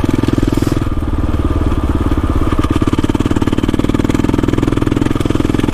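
KTM motorcycle ridden through snow, its engine pulsing loud and close in a rapid, even throb throughout.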